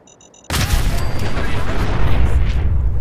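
Heavy gunfire and booming explosions erupt in a Fallout 4 battle after a moment of near silence, a dense, loud barrage of shots and blasts that carries on continuously to the end.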